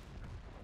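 Tank cannon firing in World of Tanks, a single short, faint, muffled boom lasting well under a second.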